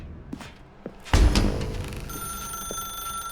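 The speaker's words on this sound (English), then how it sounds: "Now pick up the phone." A telephone rings in The Stanley Parable game with a loud, close electronic bell tone after a heavy thud, sustained and steady to the end, with no speech.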